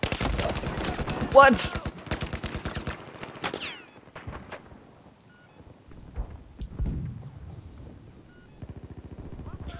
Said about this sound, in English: I'm gonna be stupid and use the old cannon.